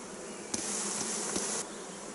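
Honeybees buzz around an open beehive while frames are handled during spring artificial swarm making: a dense, steady hum close by, with a few louder passes as bees fly near.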